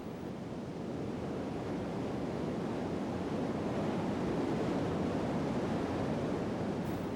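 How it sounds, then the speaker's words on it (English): Niagara's combined Great Lakes water plunging 167 feet over the Canadian Falls, a steady, dense roar of rushing water that holds loud and unbroken throughout with no voices. "a plunge over the 167-foot Canadian Falls"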